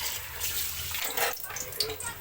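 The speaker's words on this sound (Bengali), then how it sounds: "মাছটা ধোয়া যাক।" Tap water runs steadily over a fish being washed in a home kitchen before its head is cooked into muri ghonto. The close, hissing splash continues throughout, with a few brief louder gushes.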